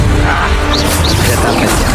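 A Confringo spell blast lands in Hogwarts Legacy as a loud, dense crash with whooshing bursts that fill the whole two seconds.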